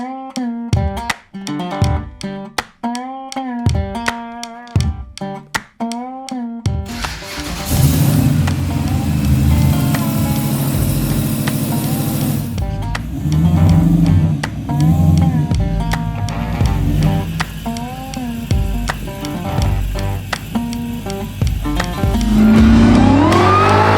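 Hellcat-powered 1967 Dodge Dart driving, a loud supercharged engine roaring and revving through the gears with a sustained rumble after a short musical intro, close and dominant.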